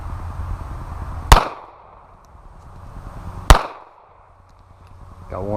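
Two sharp, loud shots about two seconds apart from a suppressed Glock 23 Gen 3 pistol firing subsonic rounds outdoors, each a close crack with a quick decay.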